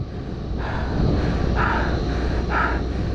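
A weak motor's engine runs steadily and loudly throughout, a continuous droning rumble with slight rises in pitch, with no voices over it.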